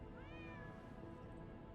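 A cat meows once in the video game Lies of P, a short rising-and-falling call set against a constant loud background wash.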